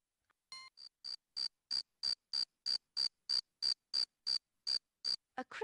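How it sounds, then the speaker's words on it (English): A male cricket chirps in an educational dictionary game, about fifteen crisp, evenly spaced high chirps in a steady rhythm, clear and close, with no other sound around them. "A cricket is a type of insect. Male crickets make a chirping sound by rubbing their wings."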